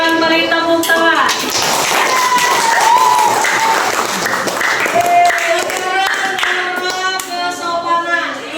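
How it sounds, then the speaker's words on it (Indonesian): Classroom audience applauding, steady dense clapping held at close range for several seconds with voices mixed in. "Kalau silakan beri tepuk tangan"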